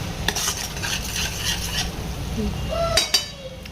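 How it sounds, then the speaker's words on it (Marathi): Tomato puree being sautéed in oil in a pan, a close stirring scrape over a soft steady sizzle, with a couple of sharper utensil clinks near the end. "मस्त तेल सुटेपर्यंत परतायचं आहे आपल्याला"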